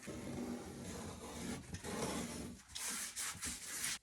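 A razor knife scraping and carving a V groove into a cracked drywall corner over metal corner bead, producing faint, close rasping strokes that come in short irregular bursts with no talking.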